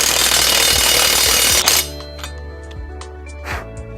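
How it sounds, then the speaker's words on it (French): A DeWalt impact wrench hammers a tow hitch ball tight on a micro tractor hitch in a loud, rattling burst lasting under two seconds. It then cuts out, leaving a few light metallic clinks and a low hum. "je vais placer ma clé à choc de Walt qui me facilite le travail"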